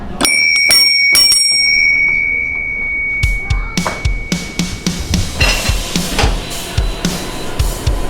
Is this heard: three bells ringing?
yes